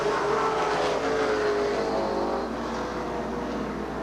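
Late model stock cars racing at Beech Ridge Motor Speedway in 1990 make a continuous, fairly loud engine roar with a droning pitch that drifts slightly as the pack runs on, with no voices over it.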